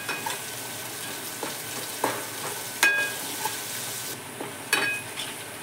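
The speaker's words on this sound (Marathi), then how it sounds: "आता लसूण घालतोय आणि पूर्ण असं हलवून घ्यायचं, लाल कलर येईपर्यंत" Coarsely crushed garlic and onion frying in a pan for anda shev, a steady sizzle punctuated by sharp scraping stirs and spoon clinks every second or so, with no talking.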